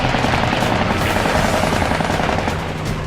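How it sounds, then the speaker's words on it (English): An F4F Wildcat's .50 caliber machine guns fire in a dense, continuous roar that blends with loud aircraft engine noise throughout. "He stays right with him, raking the enemy with his 50 cals."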